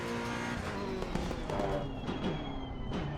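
Race car engine in the sim racing game Assetto Corsa Competizione, droning steadily with quick blips and drops in pitch as it downshifts, loud and continuous throughout.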